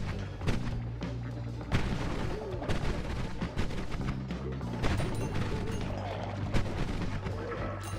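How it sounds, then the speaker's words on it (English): Explosions in the video game Noita, with several sharp booming blasts and crashes at irregular intervals over a rumbling, busy game soundscape. "Explosion to the face"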